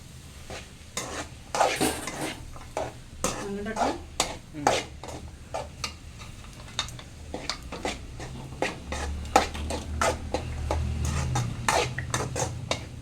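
Maggi noodles with peanuts stirred in a pan for an egg noodle dish, giving repeated scraping and clinking strokes of a utensil against metal with a soft sizzle underneath.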